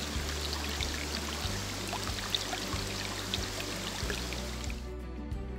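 Water rushes steadily and fairly loudly, the continuous pour of a river flowing through a forest, ending abruptly.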